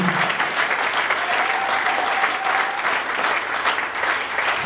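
A church congregation applauding: steady, full clapping from many hands fills the space continuously, loud and close, with no voices standing out.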